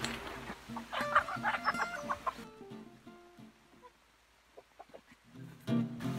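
Chickens cluck continuously in an overgrown farm chicken run, busy and close, with overlapping calls and a hint of crowing. The flock quiets briefly midway before the clucking swells again.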